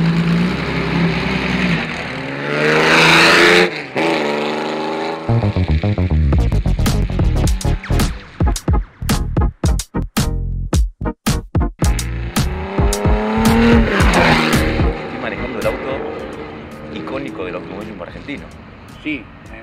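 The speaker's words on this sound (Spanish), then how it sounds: "esperamos disfrutar un rato de la prueba de Berta Tornado de Fórmula" The Berta Tornado Formula 1 race car on a test drive roars loudly, first a sustained engine note, then a run of sharp rapid revving bursts and gear changes before settling into a steady drone.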